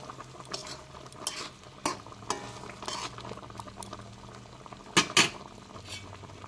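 Fried fish stirred into a simmering milk-based Bengali fish curry gives a soft bubbling background with intermittent spoon scrapes and clinks against the pot, close and fairly quiet.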